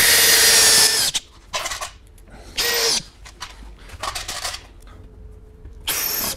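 A power drill drives screws to secure a mobile workbench top to its sub-top, with several loud high whirring bursts of a second or less separated by quieter handling and clunks, close by.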